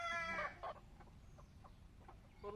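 A large native rooster on a farm, being vaccinated with other desi chickens, lets out a loud drawn call, then a run of soft clucks, and ends with another call.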